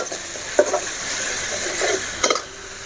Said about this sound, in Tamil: இது பூண்டு நல்லா பச்சை வாசனை போகிற அளவுக்கு நல்லா வதக்கணும்